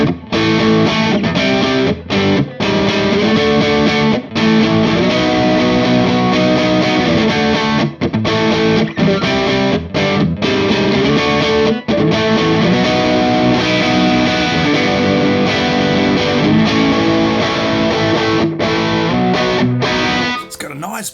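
A Gordon Smith Gatsby electric guitar on its neck pickup through a heavily distorted amp, playing loud, dense chords and riffs with brief choked gaps, close and continuous.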